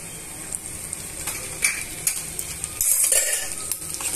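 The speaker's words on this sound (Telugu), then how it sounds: "నేను ఒక 6-7 పచ్చిమిర్చిని మధ్యలో కట్ చేసి వేస్తున్నానండి" Six or seven slit green chillies fry in a pan for an idli and dosa chutney, with a soft sizzle under frequent clinks and scrapes of a stirring utensil, and a louder burst of sizzling near the end.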